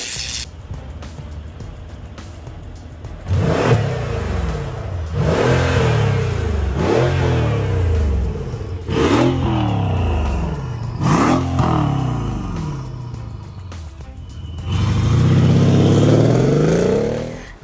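A Mercedes-AMG V63 coupe with a 5.5-litre twin-turbo V8 and custom exhaust revs hard several times in a row, each loud blip rising and falling, with a longer sustained rev at the end.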